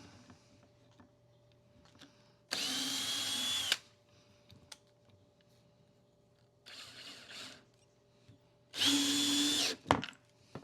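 A Ryobi 30th Anniversary brushless power drill drives screws into wood in two loud whirring bursts of about a second each, with a softer, shorter run between them and quiet handling clicks in the gaps.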